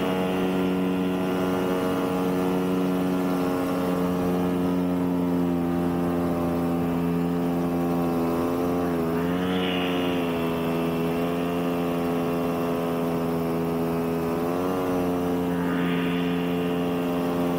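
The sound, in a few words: paramotor engine throttling up in flight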